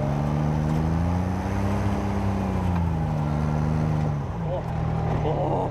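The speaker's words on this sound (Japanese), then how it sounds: "水陸両用バギー。" A kei-car-sized amphibious disaster-response buggy drives along with a loud, steady engine drone whose pitch rises and dips as it moves, and voices can be heard faintly in the background.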